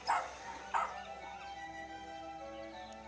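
A vagabond's dog yaps joyfully, two quick bright yips near the start, then fading whines over a quiet background.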